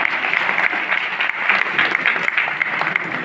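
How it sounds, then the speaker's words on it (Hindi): Audience at a Hindi comic poetry gathering clapping steadily, a full, even wash of many hands with scattered louder claps, sustained throughout without talk over it. "अब क्या आपके कानों में आकर कहूँगी ताली बजाओ?"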